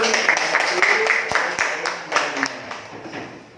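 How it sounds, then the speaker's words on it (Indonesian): Students in a classroom clap for a while, sharp uneven hand claps from a small group mixed with murmuring voices, fairly close and moderately loud before tapering off. "Ini tepuk tangan dulu"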